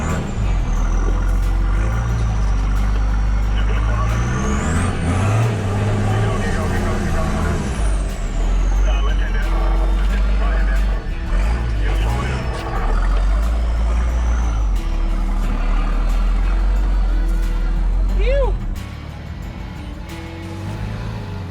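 A 4WD vehicle labours through deep, off-camber ruts on a slippery flexi section of a tough off-road track, its engine a loud, steady low drone close by with a faint whine and clunks, easing off near the end.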